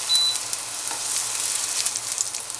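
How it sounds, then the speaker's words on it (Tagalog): Garlic frying and browning in a pan gives a steady, close sizzle with a light stir now and then. "garlic, Hintay lang natin ma-brown."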